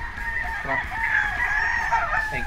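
Gamefowl at a game farm, including Kelso, Boston and yellow-legged hatch pullets, call and cluck in a steady, fairly loud chorus over about two and a half seconds with no talking.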